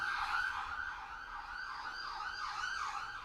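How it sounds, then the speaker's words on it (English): A wailing siren rises and falls steadily, somewhat distant, with no voices over it. "sirens in the background"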